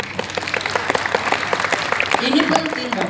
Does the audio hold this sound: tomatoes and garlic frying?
no